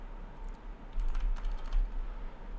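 Fast, uneven clicking of typing on a computer keyboard, heard close and alone, with a louder flurry of keystrokes in the middle.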